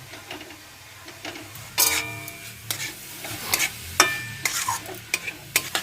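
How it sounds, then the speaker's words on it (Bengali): Jaggery is stirred and heated in a pan for a pitha filling: irregular spoon scrapes and clacks, some sharp and close, over a faint background sizzle. "গুড়টা দিয়ে এই মিনিট 4-5 মতো একটু নাড়াচাড়া করে নিয়ে গরম করে নিয়ে"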